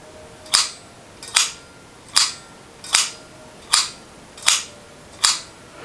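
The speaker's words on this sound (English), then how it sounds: "if I operate the shutter, as you can see, it stops open" A Kodak Baby Brownie camera shutter fires seven times in a steady rhythm, each a sharp, close mechanical click with a short decay, heard alone in a quiet room.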